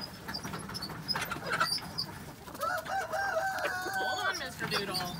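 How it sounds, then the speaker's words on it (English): Hens cluck and chatter nearby while a rooster crows a long, wavering call in the middle, with scattered bird sounds throughout. "A few Saturday Sunday morning minutes with the chickens."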